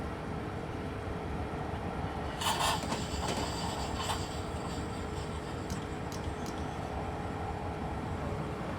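NJT ALP45-DP locomotive in Train Simulator, a steady low rolling rumble of a train in motion, with brief clicks and squeals near the start, and no voices.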